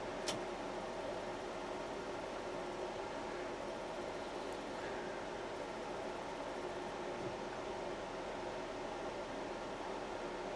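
Steady broadband whir of an RV furnace blower running right after start-up, waiting on gas ignition; a continuous even airflow drone with no talk and no clear change across the stretch.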